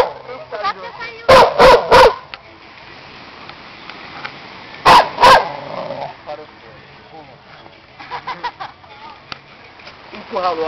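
A dog barks in sharp bursts, three quick loud barks, a pause, then a couple more, near the microphone, with people talking and calling the dog between barks.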